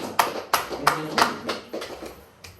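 Sharp hand claps ring out on a podcast set, about seven separate crisp claps in an uneven rhythm, close and fairly loud over quiet room tone.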